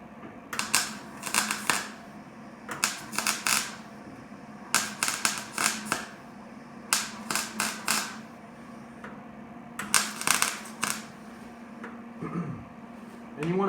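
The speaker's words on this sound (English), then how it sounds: "So I have it spot welded in, and I'm gonna throw a couple spots on there real quick, just to make sure it doesn't move around." Spot welding a new floor pan into an old car body: repeated short bursts of sharp crackling and buzzing, grouped in quick clusters with brief pauses between, close and fairly loud.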